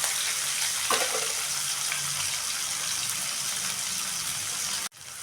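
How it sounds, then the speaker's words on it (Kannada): Tomato softening in hot oil in a pan makes a continuous close sizzle, with a brief stirring scrape early on before the sound cuts off abruptly near the end. "ಇವಾಗ ಟೊಮೊಟೊ ಹಾಕಿ 1 ಟೊಮೊಟೊ ಹಾಕ್ಕೊಂಡು ಸ್ವಲ್ಪ ಟೊಮೊಟೊ ಇದೆ ಎಣ್ಣೆಯಲ್ಲಿ ಮೆತ್ತಗಾಗಬೇಕು"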